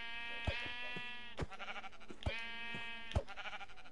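A Minecraft sheep bleats repeatedly, with strong, harmonic bleats in a regular rhythm roughly every second, close and prominent over a quiet game background.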